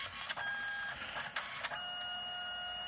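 An inkjet printer that had been throwing a no-paper cassette error, with tape added to lift the paper, feeds a sheet and prints: a steady mechanical whir with tonal motor whines and several brief clicks and clunks, close and alone.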